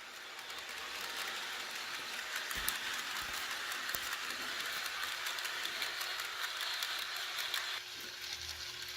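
An HO scale model tank engine runs along its track with a soft, continuous mechanical whir and faint clicking, fairly quiet and steady throughout.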